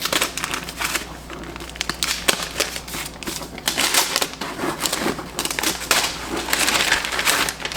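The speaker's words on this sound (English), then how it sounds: "So let me get the string off. She's off, and let's unwrap it." Paper wrapping torn and crinkled away from a packaged book after its string is removed, a dense run of close, loud rustling and crackling bursts with sharp tearing spikes throughout.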